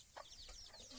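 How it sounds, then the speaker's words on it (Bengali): Farmyard chickens cluck in a few short, soft bursts as they gather to eat feed, faint and fairly close, with no talk. "মুরগি খাওয়ার জন্য আগে আসিচ্ছে, মুরগিকেও একটু দিয়ে দিলাম।"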